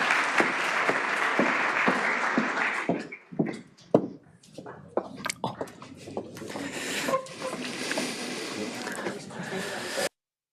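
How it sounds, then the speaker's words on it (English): Audience applause at an entrepreneurs' round table fills the first few seconds as a dense wash. It thins into scattered claps and handling noises and then swells again briefly before cutting off. Voices are faintly mixed in. "Let's welcome them with a big round of applause"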